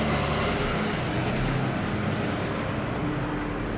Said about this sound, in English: Water Street is a noisy street because the trucks going down through there